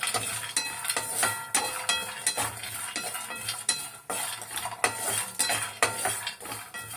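Grains dry-roast in a pan for a homemade family health drink, stirred with a metal spoon that scrapes and clinks against the pan in a steady, repeated rhythm under a faint crackle, no voices.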